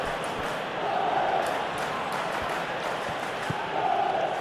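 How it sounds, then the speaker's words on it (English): A stadium crowd in the PES 21 football video game, from a Burnley vs Chelsea match, keeps up a steady, dense roar with swelling cheers and scattered claps, with no talk over it. "there's a real sense that the momentum has shifted here, Peter, and the crowd are reacting to that now"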